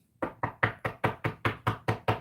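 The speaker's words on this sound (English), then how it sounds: "Knock on wood." Knocking on wood: nine evenly spaced, crisp raps in a quick steady rhythm, close and clear, with no voices.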